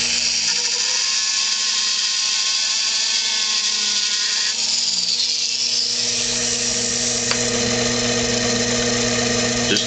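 A Butterworth pivot polisher runs steadily with its tan intermediate wheel, giving a continuous loud whine with steady motor hum, and the tone shifts slightly partway through.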